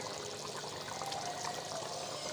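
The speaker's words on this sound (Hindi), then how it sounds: "अब इसमें हमने डाल देना घी" Ghee pours steadily into a mutton karahi as the tender meat cooks, giving a soft continuous trickle with no talk.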